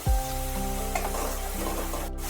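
Spice paste with salt and a little turmeric sizzles steadily in hot oil in a pan, a constant close frying hiss with a faint stir or scrape partway through.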